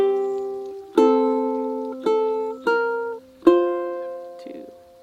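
A ukulele plucks a phrase of the folk tune The Water is Wide, four distinct pinched chord strikes that ring and decay, close and alone with no voice.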